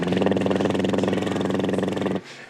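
A human voice mimics a lawnmower engine starting up, a loud, steady buzzing drone with rapid pulsing that holds for about two seconds and then cuts off abruptly.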